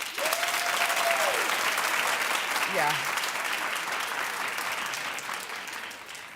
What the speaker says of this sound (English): Clap in the audience if you have godparents.